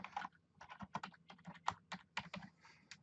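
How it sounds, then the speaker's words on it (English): Quick, uneven clicks of keys on a computer keyboard, close and quiet, with irregular typing bursts. "I'll type in there"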